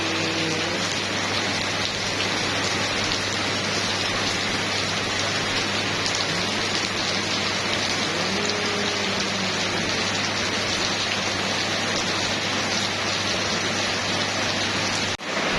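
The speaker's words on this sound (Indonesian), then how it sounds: "Hujan lagi." Steady, loud rain pouring down as a continuous dense hiss with no breaks, close by, with no talking over it.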